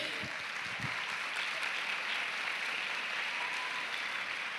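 A conference audience applauds, a broad sustained wash of many clapping hands filling the room at an even level, with a couple of low thumps near the start.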